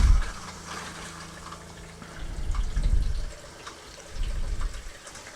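Hot water runs from a trailer bathroom faucet, a steady wash of flow that swells and surges at moments, close by, with no talking.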